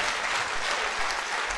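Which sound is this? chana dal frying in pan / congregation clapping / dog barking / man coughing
congregation clapping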